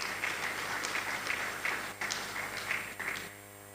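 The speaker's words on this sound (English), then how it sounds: "A round of applause again for my Lord." Guests applauding a judge at a law college inaugural dinner: a steady patter of clapping from a moderate crowd with a few louder claps, under a faint steady hum, trailing off at the end.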